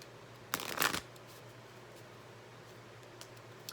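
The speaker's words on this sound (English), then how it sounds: "I'm just going to pull a few cards" Tarot cards riffled in a single brisk shuffle lasting about half a second, close and crisp in a quiet room, followed by near silence with a couple of tiny faint ticks.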